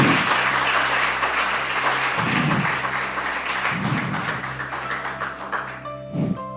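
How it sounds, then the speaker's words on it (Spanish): A church congregation applauds loudly and steadily while a sustained organ or keyboard chord hums beneath, with low vocal swells from the crowd rising at intervals and the clapping thinning slightly near the end. "¿Cuántos aplauden al Señor?"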